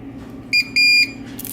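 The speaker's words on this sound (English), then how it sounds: "You'll hear a double beep at the end." Electronic lock in programming mode giving a double beep: two loud, close, high-pitched electronic tones, a short one followed by a longer one, over quiet room noise.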